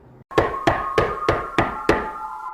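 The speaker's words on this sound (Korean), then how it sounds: "이웃집 아저씨가 이렇게 소리치시며 방문을 두드리셨습니다." Six firm, evenly spaced knocks land on a room door, a sound effect in a Korean radio drama, each thud sharp and close with a faint ringing tone underneath.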